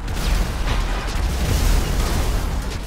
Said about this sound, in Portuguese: Beleza, entupi de explosão ali.